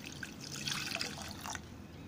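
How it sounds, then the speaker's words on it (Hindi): A glass of water is poured into a pot of ginger and curry leaves, a steady close-up splashing and trickle that runs for about two seconds with no one talking. "और इसमें हम 1 गिलास पानी डालेंगे,"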